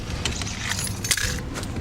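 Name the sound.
car keys dropping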